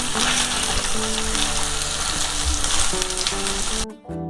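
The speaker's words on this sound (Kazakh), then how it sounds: "екеуін салып араластырып шала қуырып аламыз" Carrots and bell pepper fry with meat in a hot pan, a loud continuous sizzle with faint stirring scrapes, cutting off abruptly near the end.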